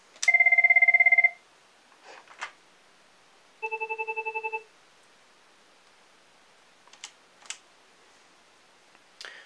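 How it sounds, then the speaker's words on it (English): A Cisco IP Phone 7942 plays two distinct ringtones in turn, each a close, loud, rapidly pulsing electronic trill about a second long, followed by quiet handling clicks and taps. "Here are the ringtones."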